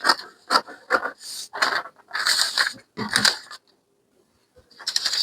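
Scissors cut out fabric pieces for a V-neck princess bustier blouse, a series of close, crisp snipping and scraping bursts in an irregular rhythm with a brief pause before the cutting resumes.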